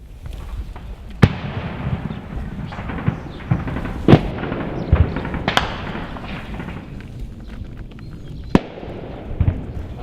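Rapid bursts of distant gunfire crackle over a steady rumble at Donetsk International Airport during battle, with a few sharper, louder bangs, likely RPGs, standing out at irregular intervals.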